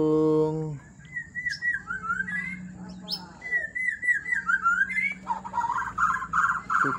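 A cucak mutiara (lincang macan) bird in an aviary calls while bathing, giving varied whistles, chirps and rapid trilled phrases, near and clear, with a brief human voice at the start.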